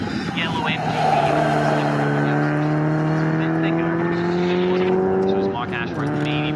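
Race cars, including a yellow MGB, roar around the Snetterton circuit in an Equipe GTS race. A loud engine note climbs steadily before dropping as gears change, while a commentator talks over it.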